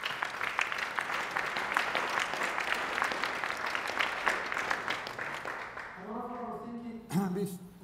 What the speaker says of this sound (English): We should give them also a very big round of applause